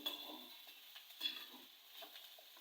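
Chickpea pulao with boiled chole chickpeas being stirred and mixed in a pan, soft scraping and gentle sizzling repeating in a quiet, steady rhythm.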